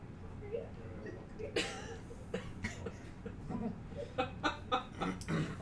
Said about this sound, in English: I think you got a cough.